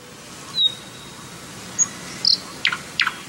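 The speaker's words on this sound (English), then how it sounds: "Oh, I hear a bird." Several short, high bird chirps scattered over quiet outdoor background hiss, a few quick rising-falling calls near the end.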